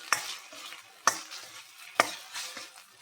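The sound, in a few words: frying ginger garlic paste in a pan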